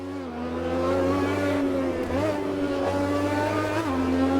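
Race car lapping the Estoril circuit, its engine droning steadily at close range with a strong sustained tone that dips and climbs slightly through gear changes, continuous and loud throughout.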